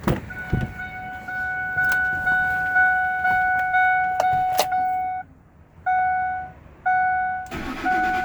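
A Ford truck's warning chime beeps repeatedly in steady tones, pausing briefly, before the engine turns over and catches near the end.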